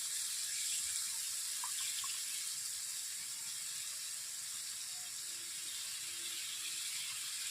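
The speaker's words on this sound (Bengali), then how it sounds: "জল দিয়ে দিচ্ছি। জলের মধ্যে সর্ষে দিয়ে দিয়েছি।" Water runs steadily into a cooking pot holding mustard seeds for a fish jhal, a soft continuous rushing hiss that stays fairly faint and even throughout, with no voices.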